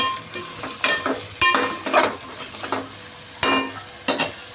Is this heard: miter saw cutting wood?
no